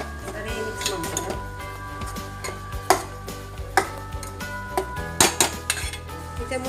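Padpe soppu greens with onion and turmeric are stirred in a metal pot, the spoon scraping and clinking against the sides in irregular knocks, with a few sharper clanks standing out, close by.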